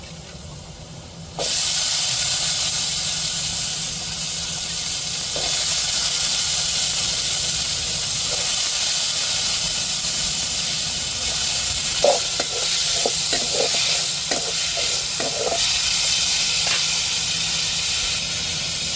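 Potatoes drop into a hot pan with garlic and fry with a loud, steady sizzle that carries through the whole stretch, with scattered stirring clicks and scrapes standing out near the end.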